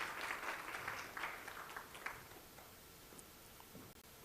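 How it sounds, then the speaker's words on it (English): An audience at a food security symposium applauds panelists coming to the stage, with a faint, fairly distant patter of clapping that fades over a few seconds. "can all the panelists please make their way to the stage and give them a round of applause"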